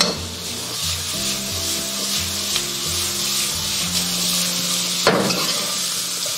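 Pork slices stir-fried with green Sichuan pepper in a wok crackle in a loud, continuous sizzle, with a spatula scraping and tossing close by and soft background music underneath.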